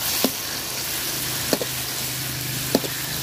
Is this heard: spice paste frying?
yes